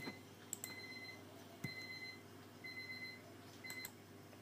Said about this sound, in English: the alarm clock, I had to shut it down